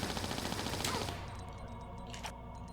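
Rapid gunfire rings out while shooting at the entity in a Tomb Raider custom level, Wreck of the Blue Storm: a dense burst in the first second gives way to scattered lighter shots and a tail of echoing noise.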